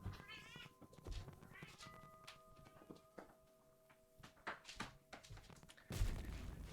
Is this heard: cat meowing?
yes